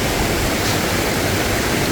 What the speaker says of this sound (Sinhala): ලස්සනයි වතුර පාර.